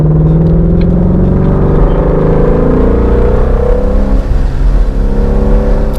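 A naturally aspirated 5.2-liter V8 car engine revs and pulls hard, its deep rising drone loud and continuous with wind rush throughout.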